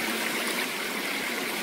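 Waterfalls heard as a continuous broadband rush of falling, splashing water, steady and fairly close, with no voices over it.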